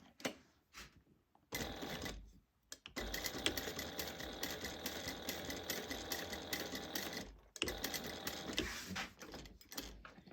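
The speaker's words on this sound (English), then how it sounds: "I want to stitch down at 1/4 inch seam allowance" Sewing machine stitching a bag seam at quarter-inch allowance, running in two sustained bursts of steady mechanical whirring broken by brief pauses, close and clear with no talk.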